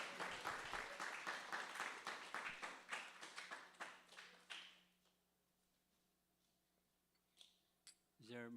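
Audience applause at a Sunday Feast gathering welcoming Maharaj, a dense burst of clapping that fades out after about five seconds, leaving quiet room tone with a couple of faint knocks.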